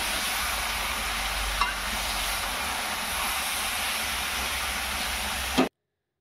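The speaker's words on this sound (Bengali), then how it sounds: "সমস্ত মশলা দিয়ে ম্যারিনেট করে রাখা মাংসটা এবার গরম তেলে দিয়ে দিলাম" Spice-marinated chicken pieces sizzle steadily in hot oil in a pan, a dense, continuous frying hiss with a couple of small clatters, cutting off abruptly near the end.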